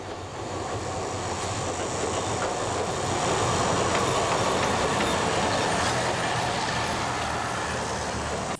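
A train running along a rail line in outback Australia, heard from on board as a steady, loud rumbling roar with wheel clatter and faint squeal, continuous throughout.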